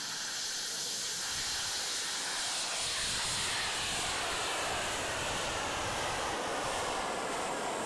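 Mighty Eagle lander's rocket engine during ascent on a 100-foot free flight, a steady, loud broadband roaring hiss that holds for the whole stretch with no voices.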